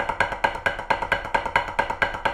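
Snare drum rolls played unevenly, the second stroke of each pair landing late and softer, giving a lopsided, limping pulse of about four strokes per second, close and dry with no talking.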